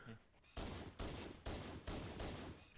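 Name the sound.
gunfire in the video game Halo 1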